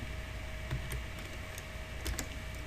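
Keys on a computer keyboard are tapped out in a quick, uneven run of light clicks while code is typed, fairly quiet and close, with no talking.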